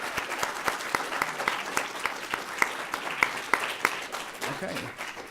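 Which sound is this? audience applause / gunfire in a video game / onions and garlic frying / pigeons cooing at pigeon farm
audience applause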